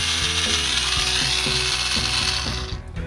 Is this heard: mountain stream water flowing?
no